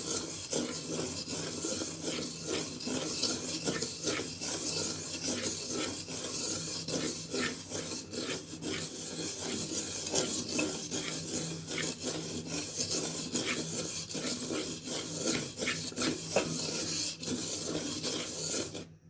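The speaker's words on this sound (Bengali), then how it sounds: "এখন অল্প আগে সুজিটা ভেজে নিচ্ছি।" Semolina is fried in ghee while a spoon stirs it, producing a steady, dry, rasping scrape that repeats in quick strokes across the pan for a long, unbroken stretch.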